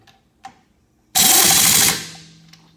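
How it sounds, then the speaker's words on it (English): An air ratchet tightening a car's tire lug nuts gives a few light clicks, then one loud burst of pneumatic whirring lasting under a second that fades as it stops, heard up close. "after you tighten both tires with your air ratchet"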